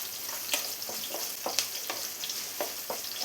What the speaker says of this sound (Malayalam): ഇനി ഇതെല്ലാം കൂടെ ഒന്ന് ഫ്രൈ ആയി വരണം